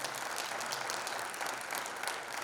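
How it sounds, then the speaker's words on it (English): Sustained applause from a crowd, dense clapping filling the whole stretch at an even level. "give a big round of applause to the organizers of today's FIIDS event"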